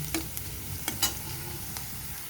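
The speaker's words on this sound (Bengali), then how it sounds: "রসুনটা আমি একটু হালকা ভেজে নেব, তারপর আলুর সাথে আবার মিশিয়ে নেব" Garlic fries with potatoes in a pan, giving a soft steady sizzle broken by a few light clicks of a spatula stirring.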